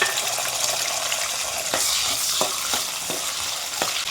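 Small peeled onions and fenugreek seeds fry in hot oil, a loud, dense, close sizzle broken by a few stirring scrapes against the pan.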